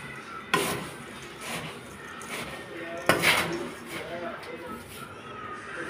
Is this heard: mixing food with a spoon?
yes